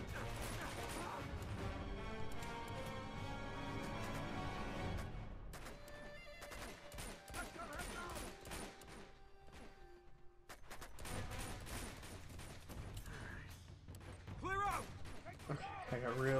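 Gunfire in the video game Uncharted 2, scattered sharp shots and crashes with metallic clatter, varying in intensity and loud at times, with speech over parts of it.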